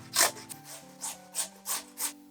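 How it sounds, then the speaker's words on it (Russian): A large potato is rubbed across a coarse grater in about six quick, rasping strokes, each a short scratchy swipe with brief pauses between, close and moderately loud with no talking. "Берем одну большую крупную картофелину и натираем на крупной терке."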